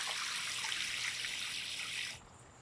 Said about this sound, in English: I water it until each tier is getting drips of water, and then I see it coming out of the bottom.